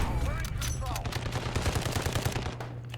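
Sniper rifle fire in the video game Call of Duty Modern Warfare, from a quickscope AX-50 or Kar98 build: a steady run of sharp gunfire reports over a constant low game rumble, loud and close.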